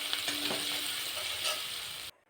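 Onions with a pinch of salt sizzle steadily in a hot pan for a chicken dish with cashews and black pepper, a close, continuous hiss with a few small stirring clicks before it cuts off abruptly.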